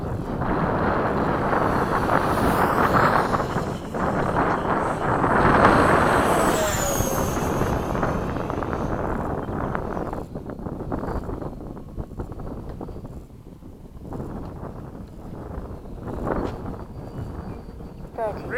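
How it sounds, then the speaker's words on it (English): Heavy wind buffets the microphone at an outdoor RC model airfield in Oakdale, a steady rumbling roar that eases slightly toward the end, with people talking over it. "Because of the wind."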